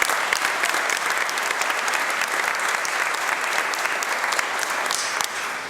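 An audience at a 2019 inauguration ceremony applauds the color guard with a dense, steady wave of clapping that holds for several seconds and eases slightly at the end; no talking.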